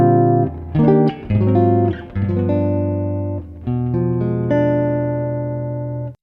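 Jazz guitar chord melody of Silent Night, measures 4 to 6, with a few plucked chords early, then longer ringing chords that sustain and fade, close and clear.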